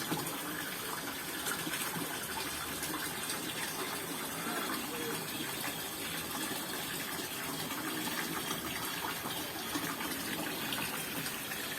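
Water gushes continuously at a mountain spring on Mount Lawu, a steady, dense rushing flow filling the whole scene at an even level from start to finish.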